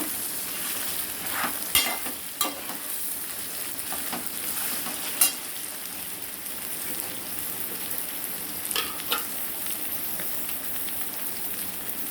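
Turmeric fries in hot oil for a Telugu goat-head meat curry, giving a dense, continuous sizzle close by, with occasional clacks of a spoon stirring the pan.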